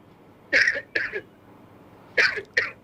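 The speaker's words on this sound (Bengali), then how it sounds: "আপনি একটু জোরে কাশি দেন।" A patient in a doctor's examination coughs loudly on request: two pairs of harsh, close coughs separated by a pause of about a second.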